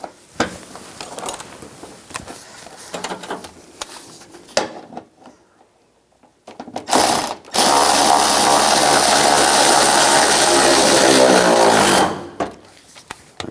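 While a 2011–2018 Ram 1500 front fender is fitted, a tool tightens a bolt: scattered clicks and clanks come first, then a loud, sustained mechanical whir runs for about five seconds before stopping.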